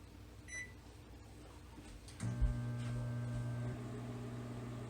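A microwave oven melting chocolate gives a faint beep and then a steady low hum that runs on quietly, with a softer tone over it.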